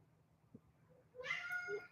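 A house cat lets out a single drawn-out meow, close and fairly loud, after a quiet stretch with a faint brief sound earlier.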